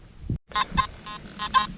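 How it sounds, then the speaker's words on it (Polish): A metal detector sounds off over iron junk in a field, giving a jumpy, crackling, buzzy tone in several short bursts in quick succession, preceded by a brief low thump. "No i kolejny sygnał na żelastwo. Skaczący, pierdzący."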